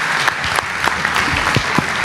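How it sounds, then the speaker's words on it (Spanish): A church congregation claps together in loud, sustained applause, a full and even crackle of many hands heard up close. "Un aplauso para la higuera."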